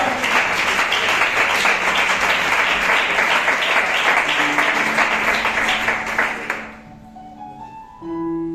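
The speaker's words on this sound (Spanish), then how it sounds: "Dale un aplauso al Señor, aleluya." Church congregation claps loudly and continuously in a steady rhythm during a sermon, the applause stopping abruptly near the end, followed by a brief tone-like sound.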